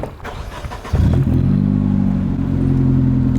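A Nissan 240 fitted with a new Autozone blastpipe exhaust cranks and fires up about a second in, settling into a loud, steady, deep idle nearby.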